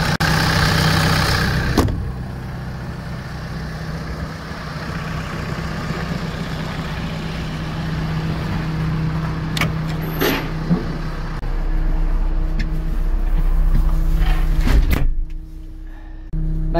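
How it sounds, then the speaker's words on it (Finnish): An FPT diesel engine idles steadily in a Case 321F Evolution wheel loader, a continuous mid-level hum with faint clicks and a brief knock near the start, running alone without talk. "ja konepeiton alla hyrrää FPT-moottori"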